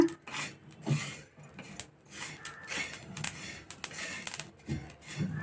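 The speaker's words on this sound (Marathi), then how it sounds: "हे तीळ आधी भाजायचं टाकले." Sesame seeds dry-roasting on a black griddle, a dry rasping scrape of a spatula stirring repeatedly across the surface in uneven strokes, close and moderately quiet.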